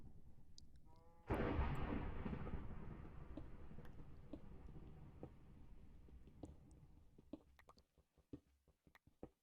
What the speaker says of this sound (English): Sometimes the thunderstorm can be long.